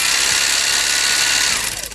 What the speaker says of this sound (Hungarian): Szuper 8-as filmvetítő.